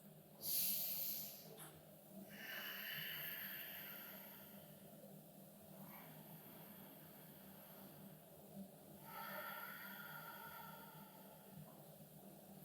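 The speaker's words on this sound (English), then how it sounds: "So that's ocean breathing." Slow yoga ocean breathing done with the mouth closed, a soft throaty hiss on each long inhale and exhale, several breaths close to the mic, alone without talk.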